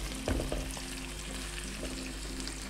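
Fish cakes sizzle steadily in oil in a pan, a soft continuous crackle with a few brief clatters as they are turned over near the start.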